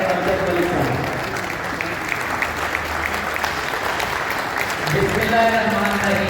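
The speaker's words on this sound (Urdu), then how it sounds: "آپ سب کو بھرپور تالیوں میں وائس چیئرپرسن پنجاب اور پاکستانی کمیشن جناب بیرسٹر امجد ملک صاحب" Sustained applause from an audience at a Pakistani political gathering, a dense, even clatter of many hands that continues throughout, with a voice speaking over the clapping.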